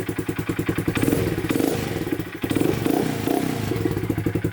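Deep, steady rumble from a 2023 Honda Grom motorcycle idling and revving with the exhaust baffle removed, close and loud throughout, with a pulsing low exhaust note and no talking.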